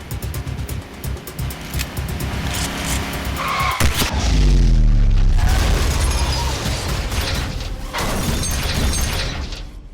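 Car flip explosion effect: a crash of metal and shattering glass with skidding, followed by a heavy low explosive boom that rumbles on, loud and close, with no talk.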